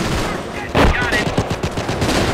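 Rapid bursts of machine-gun and rifle fire in Company of Heroes with the Blitzkrieg mod, an American battle among ruins, with a loud volley near the start and sharp shots rattling on, mixed with faint voices.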